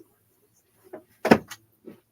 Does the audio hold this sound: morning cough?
no